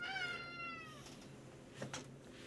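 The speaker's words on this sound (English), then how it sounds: "Yes, kitty cat, you're beautiful." A house cat gives one drawn-out meow near the start, fairly close and clear, followed by quiet room noise and a faint brief rustle.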